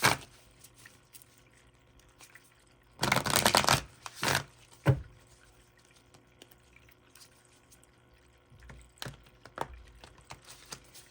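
Crystal oracle cards being shuffled and drawn, with a few short bursts of riffling and handling over a quiet room, the main burst loud and close, followed by scattered soft taps.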